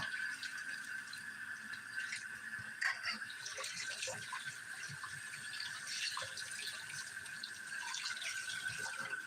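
A tap runs steadily into a sink in an apartment, giving a soft continuous splashing hiss that stays even throughout at low volume, with no voices over it.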